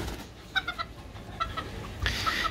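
A newly brought breeding rooster, introduced to a backyard coop to refresh the bloodline, gives several short clucks and calls near at hand, with hens and faint farmyard noise behind.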